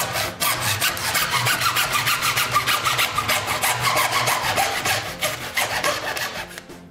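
Rapid back-and-forth sawing through a hard piece of ceiling curtain rail, steady rhythmic strokes close up, ending abruptly as the cut finishes.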